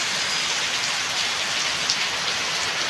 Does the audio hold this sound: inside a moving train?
no